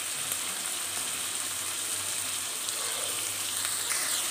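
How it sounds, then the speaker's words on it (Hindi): Tomatoes sauté in a pan with a soft, even hiss of hot oil and faint bubbling, continuous and fairly quiet without speech. "टमाटर को अच्छी तरह से भून लेंगे"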